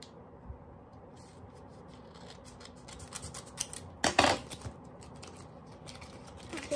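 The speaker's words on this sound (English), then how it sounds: "let me just use scissors." Scissors snip and rub through a package's plastic and paper wrapping on a small tabletop while unboxing a K-pop photocard haul, with soft rustling throughout and a louder burst of cutting midway, close and fairly quiet.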